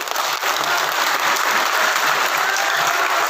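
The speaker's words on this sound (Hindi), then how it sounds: "सरदार जी खड़े हुए ताली बजाने के लिए" Steady, dense applause from a crowd at a political rally in Bijnor, loud and continuous with no pauses.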